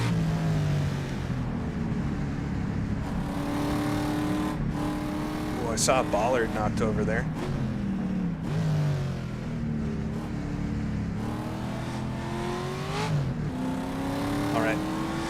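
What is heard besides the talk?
other race cars driving in rFactor video game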